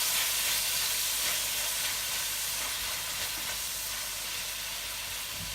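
Aromatics frying in hot oil for Jamaican curry goat give a steady, bright sizzle and hiss that stays constant and close for several seconds, with no talking.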